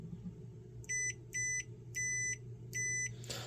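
A multimeter on continuity test gives four short, high electronic beeps as its probes touch together while restoring a GameCube controller, each beep clean and evenly spaced over a low room hum.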